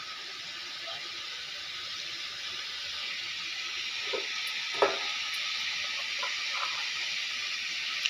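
Bitter gourd sautéing in a pan gives a loud, continuous sizzling hiss with a few faint clinks from a stirring utensil partway through.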